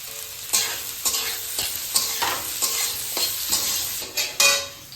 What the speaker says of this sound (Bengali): গাজরটা হালকা ভাজা হয়ে গেলে তারপরে দেব বিনস,